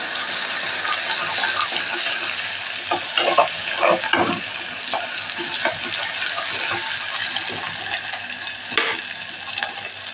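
Ginger, chilli and garlic paste sautés in a pan, a continuous close sizzle broken by several sharp scraping stirs and clinks of a utensil, with no talking.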